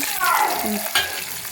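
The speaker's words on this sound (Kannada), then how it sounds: "ಕಲರ್ ಚೇಂಜ್ ಆಗಬೇಕು ಅಲ್ಲಿವರೆಗೂ ಹುರಿತಾ ಇರಿ" Brinjal sizzles in a hot pan while a utensil stirs and scrapes through it, close up, with a brief clank near the end.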